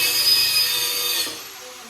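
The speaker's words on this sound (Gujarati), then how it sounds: "તો એક એક કરીને કટર ડ્રીલ ચાલુ કરીએ અને કામ ચાલુ કરીએ." An electric cutter drill cuts into a wall in a house under renovation, giving a loud, steady, close high-pitched grinding whine that eases off toward the end.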